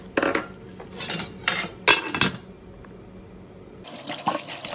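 Fish is rinsed in a kitchen sink before being cooked with cauliflower. Water splashes in several short bursts with light clatters, then the tap runs steadily near the end, close and with no talking.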